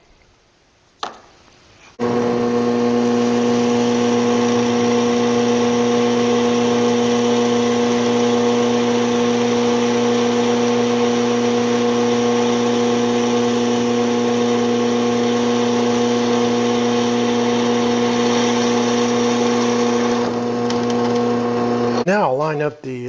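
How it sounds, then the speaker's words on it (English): A power drill boring 1/4-inch holes through a knife handle for metal pins runs as one loud, steady motor whine for about twenty seconds, starting after a brief click and cutting off near the end, with no talk. "So I guess we need to drill 1/4-inch holes."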